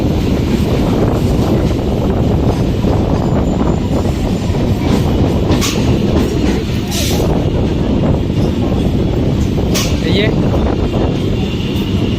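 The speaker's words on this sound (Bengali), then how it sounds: "আমাদের ট্রেন কৃষ্ণনগরে ঢুকে পড়েছে" A train rumbles steadily along the rails with constant loud rolling noise and occasional higher rattles and squeals, heavy and close throughout.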